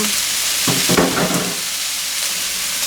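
Sliced salad onions stir-fried in a pan, a steady sizzle and hiss with a few stirring scrapes near the middle.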